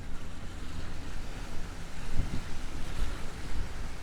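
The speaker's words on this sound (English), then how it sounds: "That wind's coming right out of the north." Strong north wind at a bay on a cold morning, a rough continuous rumble of gusts buffeting the microphone with surf-like wash underneath, loud and unbroken, no talking.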